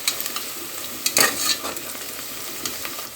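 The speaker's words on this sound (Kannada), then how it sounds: "ಇದಿನ್ನೂ ಈರುಳ್ಳಿ ಇನ್ನೂ ಬ್ರೌನ್ ಕಲರ್ ಆಗಿಲ್ಲ, ಇನ್ನೂ ಸ್ವಲ್ಪ ಬೇಯಬೇಕು ಎಣ್ಣೆಯಲ್ಲೇ" Onions fry in oil in a pan, giving a steady soft sizzle with a brief stirring scrape in the middle, close and fairly quiet, with no voices.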